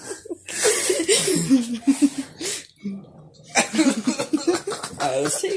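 Several rough coughs and sputters mixed with laughter, close and uneven, with brief pauses between bursts.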